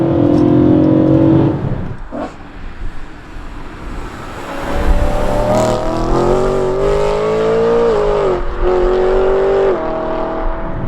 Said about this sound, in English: The sound from the engine, the way it revs